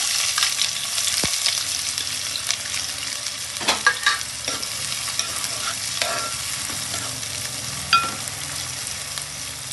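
Sliced onions fry in oil for a chicken fry, giving a steady close sizzle with occasional scrapes and stirring knocks of a utensil in the pan.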